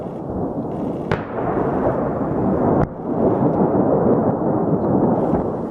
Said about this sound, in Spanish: el incendio que causó la serie de explosiones en el depósito de municiones